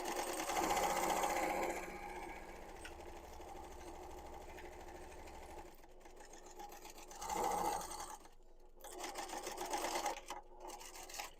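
A sewing machine stitches the seam of a quilted book sleeve, humming steadily at moderate volume with brief slowdowns and pauses around a corner pivot, followed by a couple of short restarts.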